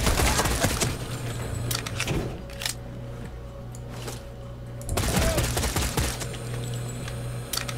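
Pistol gunfire in the video game Sniper Ghost Warrior 3: clusters of sharp shots and impacts burst out at the start and again midway over constant game ambience, with no one talking.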